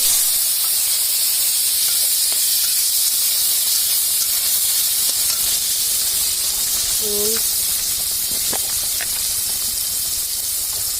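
Raw mango pieces drop into hot oil with five-spice seeds, whole dried chillies and bay leaves for a green mango chutney, raising a loud, steady hiss that runs the full length, with a brief squeak and faint clinks.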